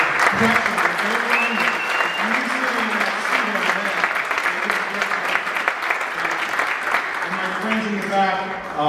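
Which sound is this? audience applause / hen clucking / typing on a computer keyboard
audience applause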